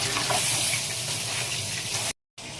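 Liquid pouring steadily into a pan of fried fish and clams with chili leaves, a continuous splashing gush that ends abruptly.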